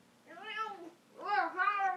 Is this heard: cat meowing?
yes